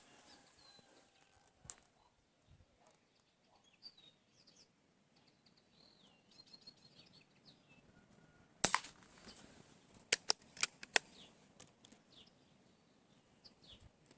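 Sharp shots from a Blow H-01 pistol firing pellets snap out in a quick irregular series of several cracks, preceded by faint handling noises and bird chirps in a quiet outdoor setting.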